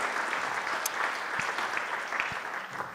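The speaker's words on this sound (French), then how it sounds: "je crois qu'on peut les applaudir" An audience claps steadily, a dense patter of many hands that continues evenly throughout, with a few sharper individual claps standing out.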